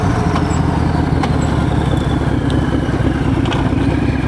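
A bagger motorcycle ridden fast on a cool mid-February road, its engine a steady, loud broadband roar with rushing wind noise that holds constant throughout.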